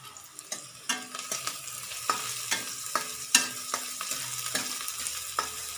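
Green onions sautéing in a pan with a light background sizzle, broken by repeated sharp clinks and scrapes of a stirring utensil against the pan at an uneven rhythm, close and clear.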